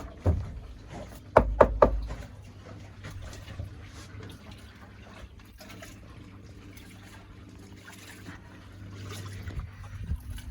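A Columbia 22 sailboat under sail on open water, with soft trickling and lapping, a few sharp knocks and thumps early on, and a low steady hum throughout.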